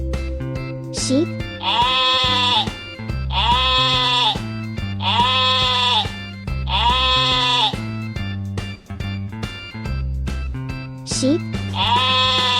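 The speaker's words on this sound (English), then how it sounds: "Sheep?" A sheep bleats repeatedly in rhythmic, wavering calls, clear and close. Bouncy children's music with a steady beat plays under the bleats.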